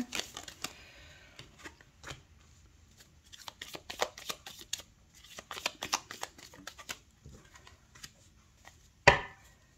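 Tarot cards being shuffled and handled at close range, with a steady run of soft, papery riffles and taps and a sharper snap of cards near the end.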